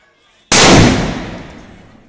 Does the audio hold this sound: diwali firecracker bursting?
yes